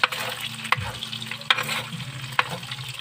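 Garlic and onion frying in a pan, with a steady bright sizzle and a few sharp clinks of a utensil stirring against the metal at intervals, close and fairly loud with no voices.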